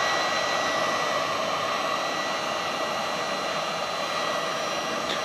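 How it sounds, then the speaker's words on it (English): A heat gun on its lowest setting warms faded ATV plastic, giving a steady, loud rushing blast of hot air that holds constant throughout with no pauses. "I'm just going on the lowest setting and just heating up the plastic so the top layer kind of just melts."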